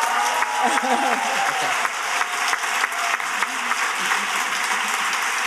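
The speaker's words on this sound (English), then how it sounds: "I think you have to listen now to the applause" An audience applauds after a lecture on how brain and body adapt to intermittent bioenergetic challenge, sustained clapping held steady for several seconds, with a voice briefly heard over it near the start.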